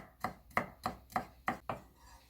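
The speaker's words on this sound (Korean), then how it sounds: "마늘 다지실 때는 이렇게 하시면 됩니다" A knife minces garlic on a cutting board in six crisp, evenly spaced chops that land close and fairly quietly, with no voices.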